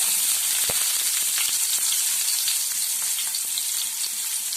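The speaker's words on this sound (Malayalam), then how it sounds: "രണ്ട് ചെറിയ ഉള്ളി ഞാൻ അരിഞ്ഞു വെച്ചിട്ടുണ്ട് ഇവിടെ അതും കൂടി ഇതിലേക്ക് ഇട്ട് കൊടുക്കുകയാണ്" Chopped shallots hit hot oil where mustard seeds have already popped, tempering for a street-stall coconut chutney, giving a steady, loud, close sizzle with scattered small crackles and pops throughout and no talking.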